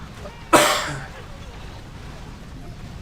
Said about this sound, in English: I heard a giant cough in my headphones